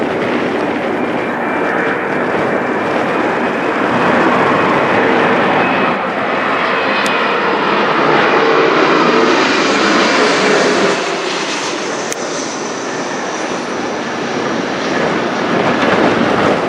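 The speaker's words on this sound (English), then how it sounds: "got a Mitsubishi CRJ 900LR from Regina, C-GJZV," A Mitsubishi CRJ 900LR airliner of Air Canada Express passes over Toronto airport, its loud jet roar swelling and holding steady throughout with no voices.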